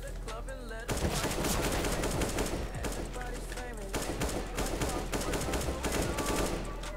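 Rapid gunfire in Counter-Strike: Global Offensive competitive play, with bursts of automatic shots rattling loudly and almost continuously over game noise, with voice chat talking underneath.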